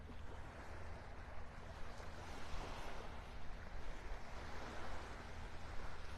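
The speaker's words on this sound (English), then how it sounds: "Very relaxing, the sounds of those little waves." Small, gentle ocean waves lap at a beach in North Naples, Florida, a steady wash of soft surf with light wind noise, continuous and fairly close, with no talking.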